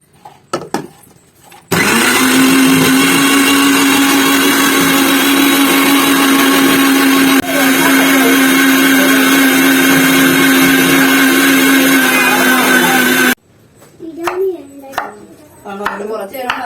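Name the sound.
mixer grinder grinding shallots, onions and green chillies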